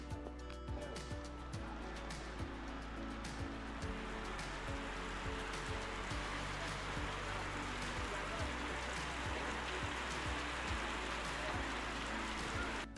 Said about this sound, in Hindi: बहुत जोर वर्षा आसुची।